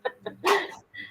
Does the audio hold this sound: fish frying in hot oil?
no